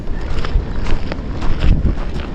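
Strong wind buffets the microphone in a continuous low rumble, with gusts swelling and fading throughout.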